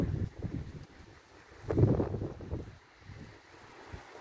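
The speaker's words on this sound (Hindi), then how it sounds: "हवा चल रही है बहुत ज़्यादा" Strong wind blows outdoors, rumbling and buffeting the microphone in uneven gusts, loudest in the middle.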